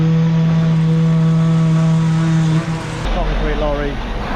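Loud, steady motorized hum of a concrete vibrator running as concrete is poured from a lorry, with a sustained low drone that shifts pitch and roughens partway through alongside other machinery noise.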